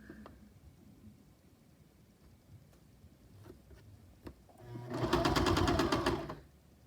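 A sewing machine runs a zigzag stitch set to width 3, a dense steady whir of rapid needle strokes that starts about five seconds in and stops shortly before the end, after quiet handling noises.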